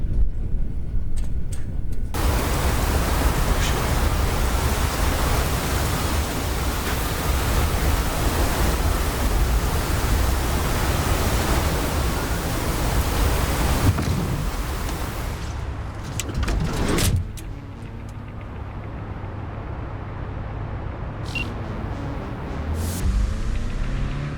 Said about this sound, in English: That storm is picking up steam.